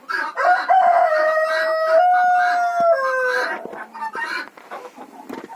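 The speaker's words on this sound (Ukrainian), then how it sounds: "Там заходить курочка. заходить." A chicken calls loudly and close while walking into a coop: a long drawn-out crow-like cry, then a few shorter clucks and rustling.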